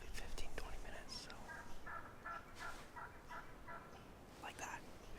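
A wild turkey gobbles repeatedly in the distance outdoors on a turkey hunt, its rattling calls coming in bursts while someone whispers softly nearby.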